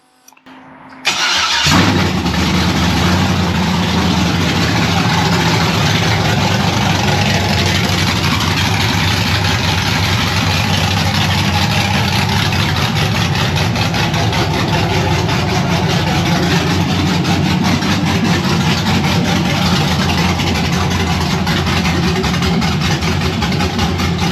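A junkyard 5.3L LM7 V8 fitted with a stage 2 cam cranks, fires up and settles into a loud, continuous, choppy idle that runs on steadily without talk.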